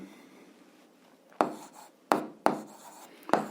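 Pen writing on paper while working an 8th-grade algebra exercise, a soft scratching bed broken by four sharp strokes or taps spaced unevenly, close and quiet, with no talking.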